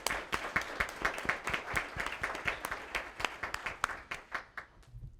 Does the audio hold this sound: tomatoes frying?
no